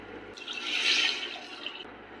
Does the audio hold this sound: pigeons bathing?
no